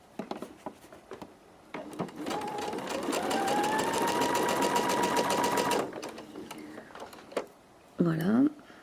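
A sewing machine stitches two pieces of fabric together for a couture set. It runs as one steady, loud whirring burst for about four seconds in the middle, and brief speech and handling noises come before and after it.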